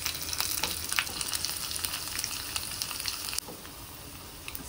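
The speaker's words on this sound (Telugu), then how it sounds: "కొంచెం ఎల్లిపాయలని దంచి కచ్చా కచ్చగా దంచి వేసేసుకోవాలి." Crushed, coarsely pounded garlic drops into a hot tempering for raw mango dal, giving a loud, steady sizzle with crackling pops that eases abruptly partway through and continues more quietly, with no voices.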